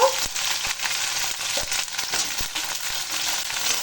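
Eggplant sizzles steadily in a hot pan for a vegetarian lau shak chorchori, with a dense frying hiss throughout and regular scraping taps of a spatula as it is stirred.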